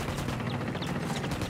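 Sustained automatic gunfire in the Ghost Recon Wildlands video game, with a dense, rapid crackle of overlapping shots at a steady loud level and no talk.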